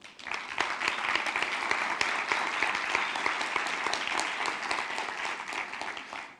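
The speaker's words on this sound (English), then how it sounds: "Let's give them all an applause." Conference audience at a Slush PLAY event in Iceland breaking into applause, a dense, sustained wash of many hands clapping that fills the room at moderate volume before tapering at the end.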